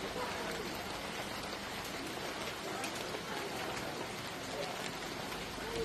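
Rain falling steadily outside a stone church in Batangas, a dense continuous patter and hiss throughout, with faint voices underneath.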